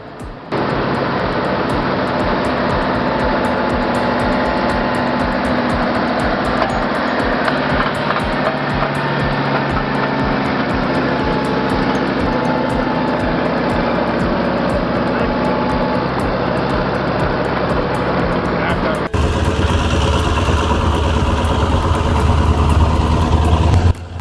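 A loud, heavy engine drones and labors continuously, shifting to a harsher, higher roar near the end, like a big rig pulling hard under an oversize load on a climb.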